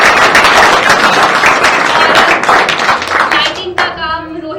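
Loud, close clapping from the audience at a BVBFTS skit performance, honouring the cameramen; a dense burst that thins out toward the end as a voice begins to speak over it.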